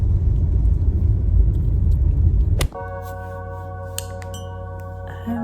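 A car rolls along the road with a steady low rumble of road and engine noise, which cuts abruptly partway through to a quieter interior hum with tonal chimes.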